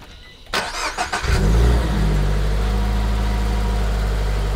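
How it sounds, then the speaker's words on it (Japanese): After a few clicks, the 2.4-litre engine of a BLITZ GR86 concept sports car cranks and fires up, then settles into a loud, deep, heavy-sounding steady idle. "じゃあエンジンもかかります。"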